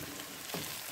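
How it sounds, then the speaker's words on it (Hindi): Minced meat (keema) frying in a pan while it is cooked for Indian qeema aloo methi, a steady close sizzle with a brief stirring scrape midway and no talking. "अब इसमें हम कीमा शामिल करेंगे और इसको भी हम दो मिनट भूनेंगे।"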